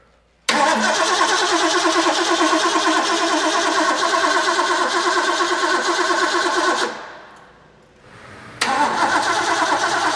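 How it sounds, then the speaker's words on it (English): A car engine cranks on its starter with ignition and coil switched on, a loud steady churn that runs for about six seconds, stops briefly, then starts again, with no firing to a run. "ignition on, coil on, starter"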